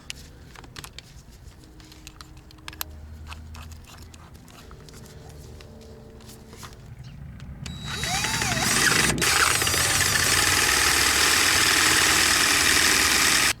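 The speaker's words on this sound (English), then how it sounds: "just drill through it and make our housing for our new filter wide enough" Power drill with a 3/8 bit boring out a fuel filter housing on a Daihatsu Hijet kei truck, quiet workshop clatter at first, then a loud steady whirring grind that holds to the end.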